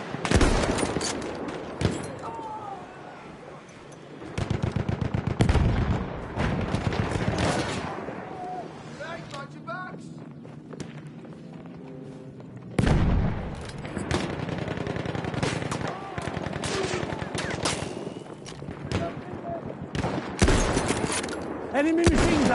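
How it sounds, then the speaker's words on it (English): Enemy machine gun fire in a video game battle: long, dense bursts of rapid gunfire with dull booms mixed in, dropping to a quieter lull before resuming, while voices speak over the action. "Enemy machine gun."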